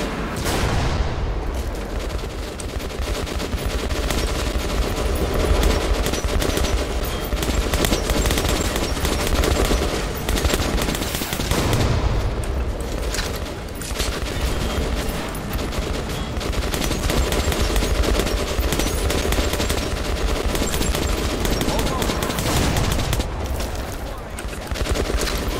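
Gunfire in the video game Metro: Last Light: loud, dense, continuous shooting and blasts that fill the whole stretch with almost no letup.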